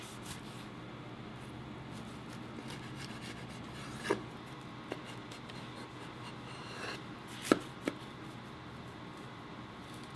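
A knife cuts through a heart-shaped Korean steamed cornbread at breakfast. Quiet soft rasping and scraping runs throughout, with a few sharp clicks and taps as the blade meets the pan, and no talk.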